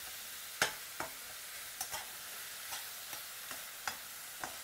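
Tomato and two small onions sautéing in oil in a pan for a gravy base, giving a soft steady sizzle broken by several sharp spatula stirs and scrapes spaced a second or so apart, with no talk.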